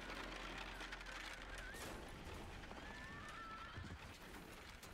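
A horse whinnies with a couple of rising, wavering cries over clopping hooves and a dense mechanical backdrop, in the video game Parasite Eve.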